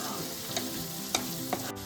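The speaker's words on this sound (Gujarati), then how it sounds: "ડુંગળીને થોડી બ્રાઉન થાય ને ત્યાં સુધી આપણે સાતરી દઈશું" Onion frying in hot tempering oil for a Kathiyawadi gathiya curry, a steady close sizzle broken by a few sharp stirring clinks from a spoon against the pan.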